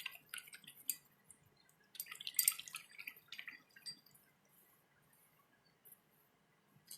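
A paintbrush is swished and rinsed in a small container of water while painting an enamel snowman, giving soft, irregular trickling and dripping splashes in scattered bursts, close and quiet, fading toward the end.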